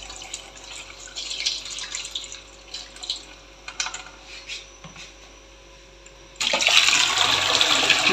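Water pours from a tap over soaked lentils in a kitchen sink, a splashing trickle with clinks of dishes and drips, ending in a louder, steady gush of running water.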